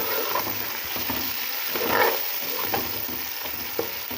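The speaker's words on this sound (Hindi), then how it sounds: "मैंने इन चीज़ों को हल्का हल्का फ्राई कर लिया है। और थोड़ा सा मैं इसमें टमाटर शामिल कर रही हूँ" Spices and tomato fry in a pan for an aloo matar pulao, giving a steady close crackling sizzle with occasional stirring scrapes throughout.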